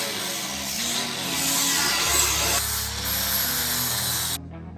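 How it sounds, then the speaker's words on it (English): Angle grinder with an 80 grit flap wheel dressing the inner and outer cut edges of exhaust pipe for a Ram TRX rear bumper install, a steady close abrasive whine that runs continuously and stops abruptly near the end. "we're just taking this 80 grit flapper wheel and just doctoring up the inside and the"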